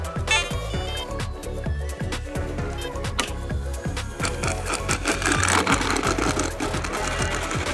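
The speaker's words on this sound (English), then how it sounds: "In stock form, the RV-7 kinda sounds like a shopping cart full of aluminum cans." An E-flite RV-7 1.1m RC airplane running in stock form, giving off a loud, continuous metallic clatter and buzz like a cart of aluminum cans, with a fast rhythmic rattle throughout and no voices.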